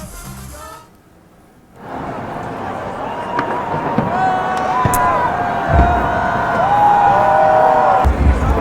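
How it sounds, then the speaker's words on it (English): A New Year fireworks display goes off over Moscow's Red Square, with booms and crackles near and far over a steady crowd roar with cheers and whistles, after a brief quiet pause near the start. "Russia welcomed the arrival of 2020 with fireworks display over Moscow's Red Square"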